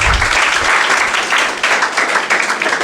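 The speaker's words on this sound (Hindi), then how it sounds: "एक बार कलाम साहब के लिए भी ताली बजा दीजिए।" An audience at a gathering for students applauds Kalam with steady, dense clapping from many hands, loud and close, holding for about three seconds with no talk over it.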